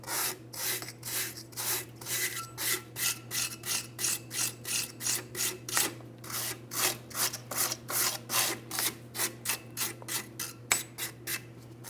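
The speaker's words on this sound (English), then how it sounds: "We'll make sure we use a wire brush to clean along the backing plate where the emergency brake shoe will sit." A wire brush scrubs the brake backing plate of a 2007-2014 Ford Edge during a parking brake shoe replacement, in a steady rhythm of about two close, rasping back-and-forth strokes per second over a low hum.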